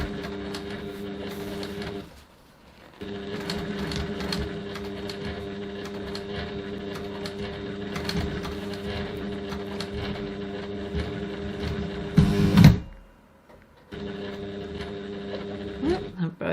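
A sewing machine runs steadily while stitching a second line along a bag seam close to the first, a continuous mechanical hum that pauses briefly twice and ends with a louder clatter.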